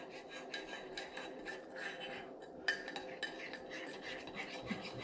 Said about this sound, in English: Okay, we'll mix that up. Stir that up really good.